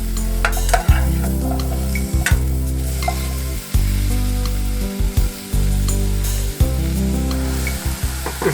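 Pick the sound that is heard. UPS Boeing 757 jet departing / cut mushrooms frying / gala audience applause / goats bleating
cut mushrooms frying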